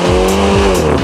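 A 2020 Mini Cooper S driving, its engine note loud and close in a short burst, with a rising and falling tone and a brief tire squeal.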